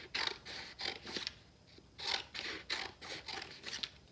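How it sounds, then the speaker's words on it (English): Scissors cutting strips of red, white and blue craft paper, a close series of crisp snipping strokes repeated in a steady rhythm over about four seconds. "And I took my scissors and I just cut strips"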